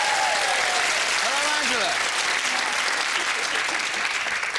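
Big round of applause from a television studio audience for Angela French, a guide leader, dense and steady throughout, while a host greets her over the clapping.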